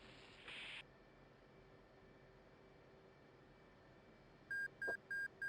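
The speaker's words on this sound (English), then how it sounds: "I don't know why my jet is beeping as if I keep doing that test thing." A jet's cockpit warning tone in the DCS flight simulator game, heard as a short tone near the start and then four quick evenly spaced electronic beeps at the end, over a quiet steady hum.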